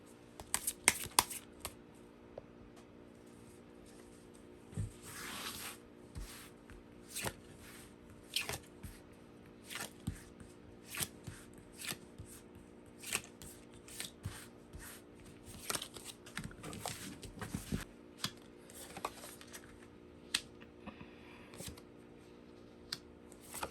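Tarot cards are shuffled and drawn in a quiet room, giving soft, irregular flicks and slides with scattered light taps, all faint and close, with no talking.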